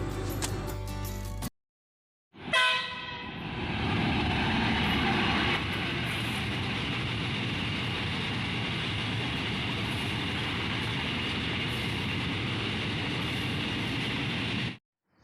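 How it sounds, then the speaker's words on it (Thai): Steady rumbling drone of a train engine idling at Nong Saeng railway station in Saraburi, Thailand, loud and continuous, after a brief burst of another sound and a short silence. "เป็นบรรยากาศของสถานีรถไฟอำเภอหนองแซงนะครับ"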